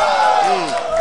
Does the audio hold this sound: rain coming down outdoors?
no